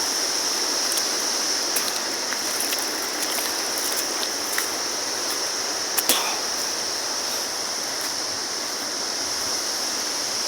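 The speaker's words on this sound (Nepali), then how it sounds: "म तम्मर नदीले नै मुख धुँदैछु फेरि।" The Tamor river's water rushes past in a steady, loud, close hiss with no letup, broken only by faint clicks and splashes near the bank.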